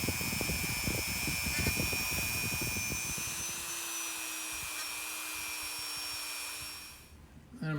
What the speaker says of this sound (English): I'm simply going to take these and just clean them up with my Dremel